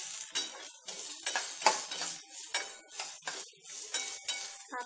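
Onion being stirred and roasted in a pan with a metal spoon: repeated scraping clinks against the pan over a soft sizzle, steady and close throughout.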